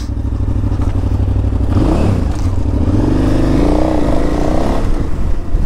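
A motorcycle rumbles steadily and loudly up close as it makes a U-turn on an Amsterdam street near Museum Square, its engine pitch rising and falling slightly through the turn.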